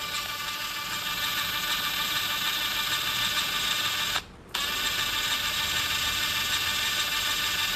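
A JLD impact wrench running at its lowest speed makes a steady, high mechanical whir with a gear-like rattling texture, loud and unbroken except for one short pause near the end.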